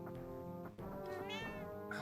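A pet cat meows, a short wavering call rising over steady tonal background music from a Fire Emblem game, close and moderately loud.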